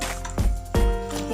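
Fish pieces drop into a simmering Assamese fish curry cooked with narasingha leaves, giving two soft, wet plops close together over a bubbling background.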